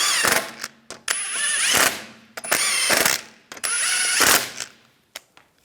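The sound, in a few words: ratchet snugging down wheel lug bolts on Volkswagen Beetle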